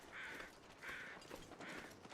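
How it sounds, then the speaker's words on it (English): Crows in the video game The Long Dark give three evenly spaced, faint caws from a distance over quiet ambient wind. "I can hear the crows."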